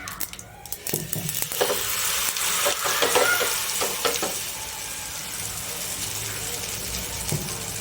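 Handvo batter with sesame seeds poured into hot oil, bursting into a loud sizzle that settles into a steady, softer frying hiss.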